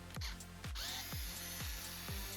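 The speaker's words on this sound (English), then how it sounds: "we can begin taking the speaker apart by removing 8 screws that hold the enclosure together" A power screwdriver backs out the screws holding together the enclosure of a Marshall Willen II portable speaker, giving several short whirring bursts in a steady rhythm, close and clear with no talking.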